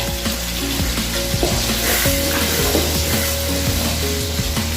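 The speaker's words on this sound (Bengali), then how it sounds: "এখন আমি ডালগুলো দিয়ে দেব, দিয়ে ভালোভাবে ওইটাকে কষিয়ে নেব" Chana dal lentils fry and get stirred in a pan over a clay stove, a steady loud sizzle broken by repeated scraping and knocking strokes of the spoon, with no voices.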